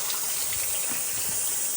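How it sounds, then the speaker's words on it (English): Continuous rushing water from a waterfall at Love's Crossing, New Zealand, a steady broad roar with no pauses, moderately loud. "I love good waterfalls."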